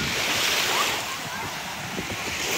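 Waves and wind on Port Dover beach in Ontario, a continuous broadband roar of surf with gusty microphone buffeting, steady and fairly loud throughout.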